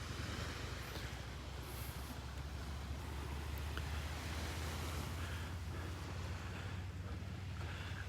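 Surf washing onto a beach in North Naples, Florida on a summer morning, a steady, soft wash of waves mixed with wind rumble on the microphone, low and continuous with no voices.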